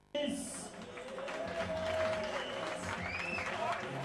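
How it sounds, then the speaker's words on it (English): A crowd claps and cheers for both fighters after a boxing bout, a sudden burst of applause mixed with shouting voices and a whistle, holding steady and fairly distant. "They need a big round of applause for both fighters."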